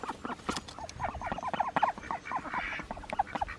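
Ducks at a tiny house stay in New Zealand, a run of quacks and croaky calls repeating at moderate distance over quiet outdoor background, no one speaking.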